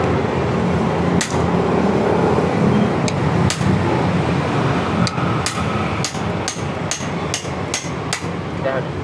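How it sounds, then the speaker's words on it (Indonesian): A ball-peen hammer drives a small punch on a motorcycle engine part, likely from an overheating engine with a radiator that loses coolant, giving about a dozen sharp metallic strikes at an irregular pace that speed up toward the end over a steady background hum. "Pakai palu bujel ya."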